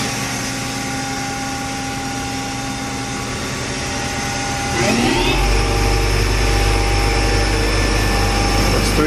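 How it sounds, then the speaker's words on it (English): Spindle of a 1999 Haas TL-15 lathe with 23.5-inch swing spinning up from 500 RPM, a steady mechanical whine and hum that rises in pitch and grows louder partway through, continuous and close. "we'll start off with the spindle at 500 RPM and we'll work our way up to"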